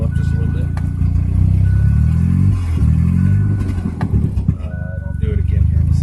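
A car engine running a DIYPNP ECU idles, then its revs are nudged up a little, giving a loud close low drone that rises and falls slightly, with people talking over it.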